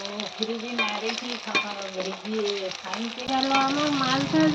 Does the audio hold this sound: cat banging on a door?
no